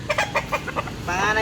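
A Sweater-bloodline gamefowl rooster gives a close run of quick, rhythmic clucks that swell into a longer throaty call.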